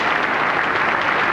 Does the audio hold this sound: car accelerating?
no